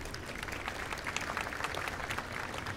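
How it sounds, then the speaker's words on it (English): Audience applause at an outdoor summer festival concert with an army field band and soldiers' chorus, a continuous wash of clapping heard at a distance, soft and even throughout. "Just give yourselves a round of applause."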